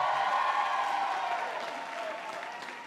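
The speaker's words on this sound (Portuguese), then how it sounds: "E uma salva de palmas" A church audience gives a round of applause, a dense, continuous clapping that gradually thins and softens toward the end, with no talk over it.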